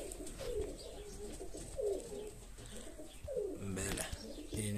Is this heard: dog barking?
no